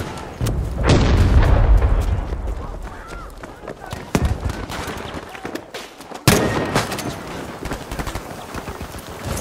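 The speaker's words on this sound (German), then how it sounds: "Gefährlich! Granate! Runter!" A grenade blasts in the online shooter Battlefield 5 during a Breakthrough match, a loud booming explosion followed by scattered gunfire, further sharp bangs and a second heavy impact, with shouting voices mixed in.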